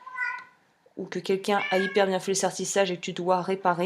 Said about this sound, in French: Désolée pour le chat en arrière-plan qui pleure.